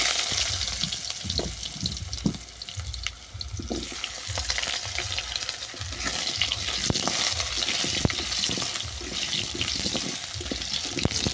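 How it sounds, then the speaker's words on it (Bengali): Potato pieces sizzle and fry in oil with a constant hiss, broken by scraping stirs and clinks of a utensil against the pan; no talking. "আলুটাকে বাদামি করে ভেজে নেব"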